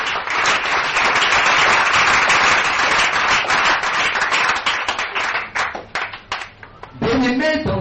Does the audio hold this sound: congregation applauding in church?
yes